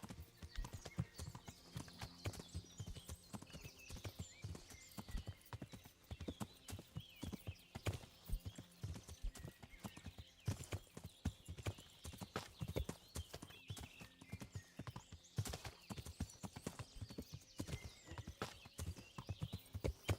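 Horse hooves clip-clop steadily in the medieval role-playing game Kingdom Come Deliverance, a continuous walking rhythm of close, sharp strikes with a brief whinny and faint ambient sounds, no talk.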